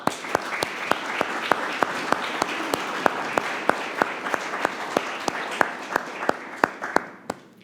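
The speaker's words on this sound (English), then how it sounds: "because I think they deserve a round of applause" An audience at a State of the City address applauds police and first responders with a sustained, even wash of clapping, punctuated by a steady series of loud, sharp close claps before fading at the end.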